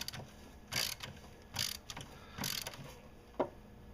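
Ratchet with a low profile socket on a 3/8 inch extra long extension tightens an oil filter: four short bursts of rapid clicking pawl at moderate volume, then one sharp single tick, with no talk.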